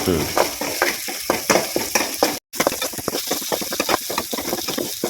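Crushed ginger and garlic frying with onions in a pan over a wood-fired stove, a close, loud continuous sizzle with rhythmic stirring scrapes throughout and a brief break midway.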